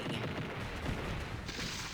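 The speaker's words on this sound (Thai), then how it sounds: "ระเบิด" Explosion in the video game Daikaiju Daikessen Versus: a loud, dense blast of noise filling the whole two seconds, sustained rumble and crackle with a brighter burst near the end, no talking over it.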